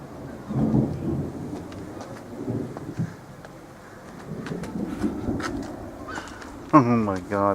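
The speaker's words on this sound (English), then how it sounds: "It's like a severe thunderstorm." Thunder rumbles low and at a distance through a severe thunderstorm with falling rain, while people talk excitedly over it.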